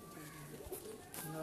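Pigeons bred for breeding give soft, low coos close by, faint and brief beneath the surrounding room sound.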